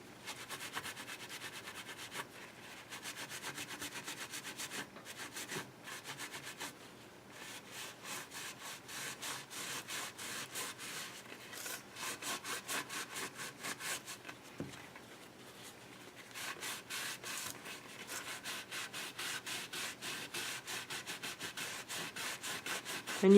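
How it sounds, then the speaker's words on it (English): Steady, close rubbing and scraping across a painted wooden picture frame as raised parts are worn back, in repeated quick back-and-forth strokes, faint and dry, with brief pauses and no talking. "the idea is that you rub off the raised parts and leave the white in between."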